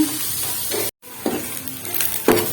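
Cabbage stir-fried in a full pan for cabbage palya, a close, steady sizzle with brief scraping stirs and a short gap in the middle.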